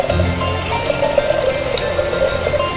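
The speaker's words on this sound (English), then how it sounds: "I'm going to fill it up with also 800 cc's of ozonated water from this amazing machine" Ozonated water from an ozone generator pours steadily into a beaker to the 800 cc mark, a continuous close liquid filling sound with a faint pitched hum underneath and no talking.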